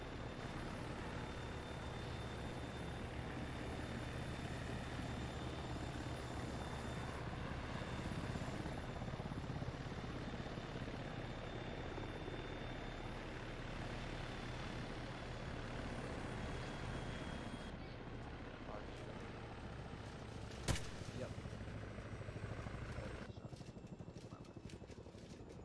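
Military helicopters wind down on the ground, a steady broadband turbine and rotor roar that holds for a long stretch, with a brief sharp click near the end and the noise thinning slightly afterward.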